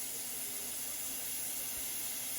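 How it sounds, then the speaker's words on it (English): Ground beef fries in a pan in its own fat with no oil, giving a steady, dense sizzling hiss that holds even and unbroken throughout, close and moderately loud, with no talking. "just frying it up real quick"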